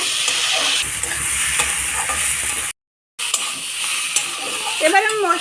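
Fried rice grains tipped into a pan for a banana-flower murighanto and stirred, a steady broadband sizzle with scraping strokes, briefly cut to silence, then resuming with a faint voice near the end.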